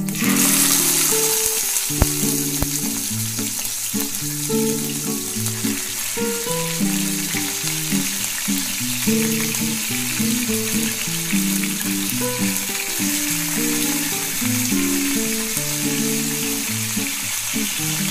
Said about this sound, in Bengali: তেল আমার গরম হয়ে গেছে, আঁচটাকে একদম নিভু করে আমি মাছগুলোকে এক এক করে